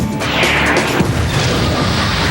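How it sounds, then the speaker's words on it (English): Aircraft-dropped bombs exploding on a heavy artillery piece during a close air support strike: a sustained, loud, rumbling blast with a crashing burst near the one-second mark, dense low-end roar throughout, no voices. "we put the bombs on the target"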